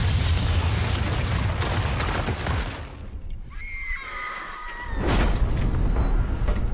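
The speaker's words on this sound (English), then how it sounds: "we see this epic destruction on a grand scale. It's sort of like a nuclear explosion of sorts." A huge TV-drama explosion roars as a deep, sustained rumble, drops briefly to a shrill whinnying cry, then surges back with another heavy blast.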